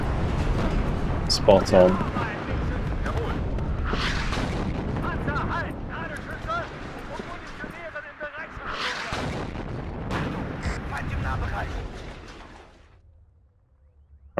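Artillery fire and explosions in the WARNO war strategy video game: repeated heavy booms and rumbling blasts over a busy battle soundscape, with someone talking over the top throughout.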